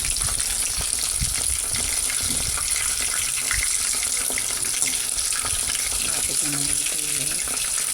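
Browned chicken fries and sizzles in a pan for a Korean-style gochujang chicken chop dish, giving a constant dense crackle with some clattering, while a voice speaks briefly over it.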